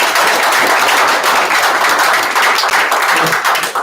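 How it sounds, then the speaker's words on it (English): Loud, close, sustained applause from an audience thanking panelists at a Detroit hip-hop discussion panel, a dense continuous roar of clapping that tapers slightly at the end. "Let's give them all one more round of applause."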